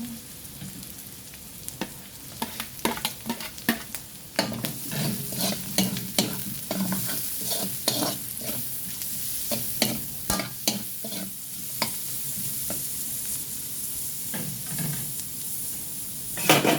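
Garlic sautéing in a pan for sotanghon guisado, a continuous hiss of frying oil with frequent clattering stirs and scrapes of a utensil against the pan, fairly close.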